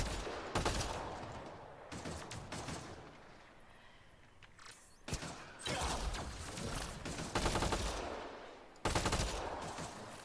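Rapid automatic gunfire from Mass Effect Andromeda on modded insanity difficulty, with repeated bursts of sustained firing and sharp reports separated by brief lulls, loud and close.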